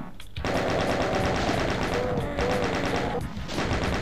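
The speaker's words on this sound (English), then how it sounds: "Now I'll use the chain gun." Chain gun in Ultimate DOOM firing continuous rapid rounds, loud and dense, with two brief gaps where the fire stutters before resuming.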